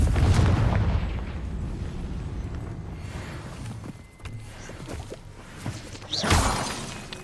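A Confringo fire spell from Hogwarts Legacy blasts loudly, first as a heavy low rumble and then as a sharp burst near the end, with no talk.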